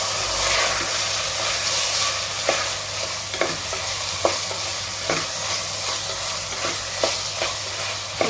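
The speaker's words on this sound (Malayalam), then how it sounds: "ഇതിൻ്റെ പച്ചമണം ഒന്ന് മാറുന്നവരെ അതും കൂടെ ഒന്ന് വഴറ്റി വെക്കണം" Ginger garlic paste sautéing in a pan for a Kerala chicken stew, a loud continuous hiss and sizzle with regular light scrapes of stirring throughout, no voices.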